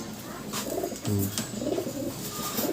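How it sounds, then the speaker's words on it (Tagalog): Pigeons or doves cooing in low, throaty bursts, with rustling and ambient noise of a crowded aviary around them. "Ang daming magagandang ibon ng tito mo"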